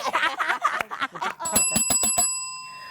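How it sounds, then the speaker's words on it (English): Five or six sharp ringing strikes of a small bell mark a two-minute warning during a live show, quick and evenly spaced after some chatter, with a ringing tail. "we just heard the CynCity bell. That's our 2-minute warning"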